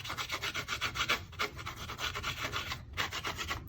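A sponge or sponge dauber rubbing loose embossing powder off a stamped card for a gilded marble background, heard as a steady close-up scrubbing rasp in repeated short strokes without pause.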